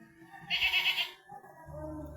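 A goat on a family farm in the Philippines gives a short bleat, loud and close for about half a second, with quieter rural background and livestock around.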